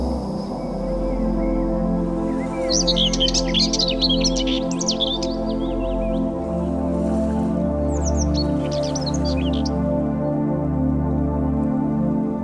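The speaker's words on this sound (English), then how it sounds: "remember that birds always start the new day with a song" Morning birdsong with bright chirps and trills in two clusters over a steady low hum and a soft ambient music bed, moderately close.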